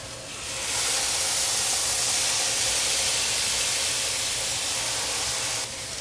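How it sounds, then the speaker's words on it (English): Shaoxing wine splashed into a hot wok of chow mein, giving a loud, steady broadband sizzle and hiss that bursts up within a second and holds evenly for about five seconds before cutting off. "I'm gonna zhuzh it with a little bit of Shaoxing wine"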